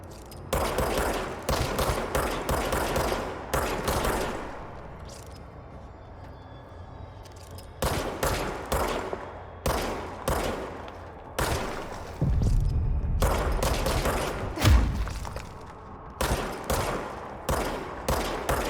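Gunfire from the video game Control comes in loud, close bursts of rapid shots, separated by short quiet gaps and a few heavier thumps.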